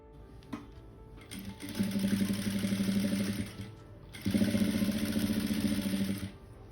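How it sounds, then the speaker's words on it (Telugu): Sewing machine stitching frills on a lehenga, two steady rattling runs of a few seconds each separated by a brief pause, close and moderately loud. "దీన్ని అంతా క్లోజ్ చేసి లోపలికి మనం ఈ విధంగా స్టిచ్ చేసుకోవాలి పైనుంచి నీట్గా"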